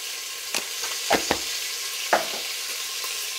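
Spoon stirring ingredients in a cooking pan while they sizzle gently, with several scraping strokes spaced irregularly over a soft continuous frying hiss.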